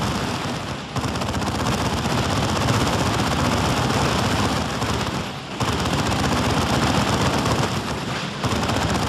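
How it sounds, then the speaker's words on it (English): Dense, sustained suppressive machine-gun fire in the Warhammer 40,000: Dawn of War II video game, a loud continuous rattle of rapid bursts with brief dips before resuming. "Under suppression fire."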